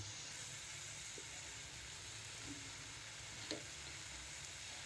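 Ginger paste added to softened tomato sizzles in a hot pan while cooking goat head curry, a steady close hiss of frying with a couple of faint stirring knocks.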